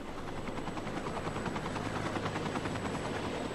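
An air ambulance helicopter's rotor thumps in a rapid, steady rhythm, a continuous droning chop with no voices over it.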